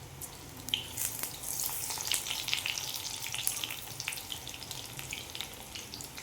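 Spinach bhaji fritters deep-fry in hot oil with a steady, dense sizzle and crackle, close up and continuous throughout, with no voices.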